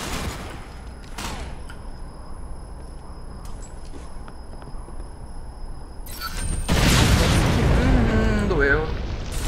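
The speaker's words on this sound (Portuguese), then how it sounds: "Vamos jogar uma granadinha." A grenade detonates in the online shooter Ghost Recon Phantoms: after a stretch of quiet battlefield ambience, a sudden loud boom hits late in the clip, followed by sustained heavy rumble with a voice mixed in.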